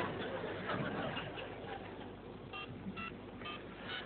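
A few short mobile phone keypad dialing beeps toward the end, spaced at a steady pace over a faint background hiss.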